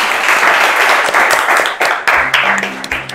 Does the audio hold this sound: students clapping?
yes